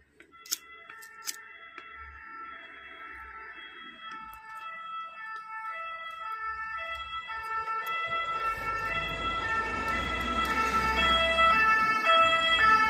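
An ambulance siren wails steadily at a funfair in Tourcoing, growing louder and busier as crowd and ride noise build beneath it.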